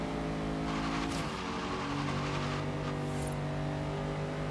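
Race cars roaring and accelerating in Forza Horizon 3 while overtaking a Focus RS, a dense steady engine drone with rising revs and a brief swoosh as one car pulls past.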